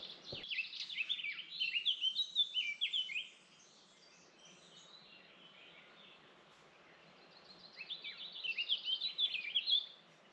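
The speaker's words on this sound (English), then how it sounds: "It's such a sweet bird song." A small bird sings sweet, high chirping phrases at a campsite, in two bursts separated by a few seconds of quiet, clear and fairly near with no talking.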